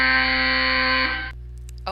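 An alarm clock buzzer rings loud and steady for just over a second with a harsh, droning tone, then stops, leaving near silence.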